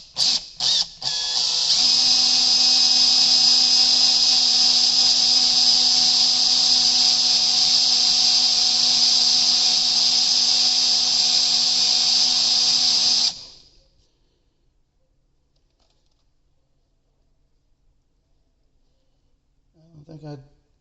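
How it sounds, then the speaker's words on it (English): Small drill with a 3/32 bit drilling into a Winchester 1906 breech bolt, a steady high-pitched whine after a few short starts, running continuously for about twelve seconds before stopping, followed by silence and faint movement. "I'm going to try a 3/32 drill bit."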